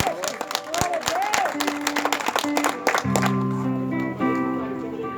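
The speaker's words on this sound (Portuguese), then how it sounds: "Aplauda, igreja." A church congregation applauds amid a worship service, clapping and crowd noise mixed with voices and sustained musical tones from instruments that enter partway through.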